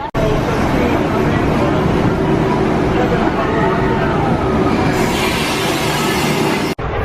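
Expedition Everest roller coaster train at Disney's Animal Kingdom, Walt Disney World Orlando, rolling along its track with a loud, steady rumble and rattle that cuts off abruptly near the end, with faint crowd murmur underneath.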